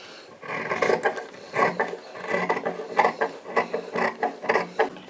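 Scissors cut straight through blouse fabric in a run of short, crisp snipping and crunching strokes, fairly close, with no speech.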